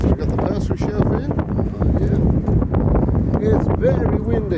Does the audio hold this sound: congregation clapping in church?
no